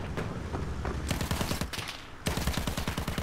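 A mounted gun in the Battlefield 1 beta fires in long rapid bursts, loud and close, with a steady hammering rhythm, a brief gap, then another sustained volley.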